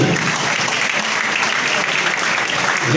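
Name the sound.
audience applause at police award ceremony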